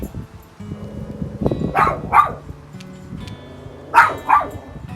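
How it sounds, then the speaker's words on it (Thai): A small dog barks in a home garden, giving a few sharp yips in two pairs with short pauses between, close and fairly loud over faint background clatter. "พอปล่อยลงไปก็เห่าอย่างนี้นะ"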